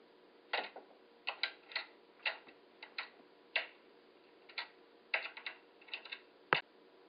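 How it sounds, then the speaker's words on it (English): An old wooden door's metal latch rattles in quiet, irregular bursts of light clicks and taps scattered across several seconds, alone with no talking. "The door latch rattled."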